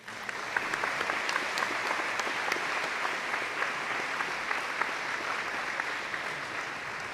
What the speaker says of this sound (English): Of maybe a final round of applause for them.